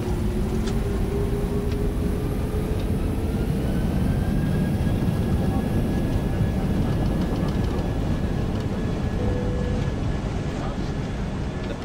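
Zero-gravity airplane in flight during a film stunt shoot, a steady loud cabin drone of engines and airflow filling the whole stretch with constant rumble and faint tonal whine, no words spoken.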